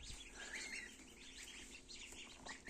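A freshly hatched gosling in an incubator with other hatchlings, peeping in soft, repeated high chirps over a faint background hiss, fairly quiet and continuous.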